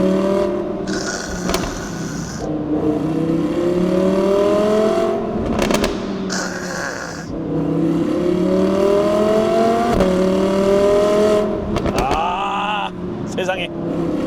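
An Audi R8 4S fitted with a fully custom valved exhaust, valves open, drives under load. The engine roars loud and close, rising through the revs in repeated surges with brief lifts between pulls, while a voice talks over it at times.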